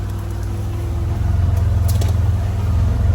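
A car rolls through a pasture with a steady low engine rumble and tyre noise, close and continuous, swelling slightly louder toward the end with faint crackles over it.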